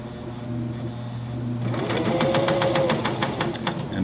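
A cover stitch sewing machine stitches through fleece, starting up after a quiet moment into a steady, fast mechanical rattle with even rhythmic pulses, close and clear with no talk over it.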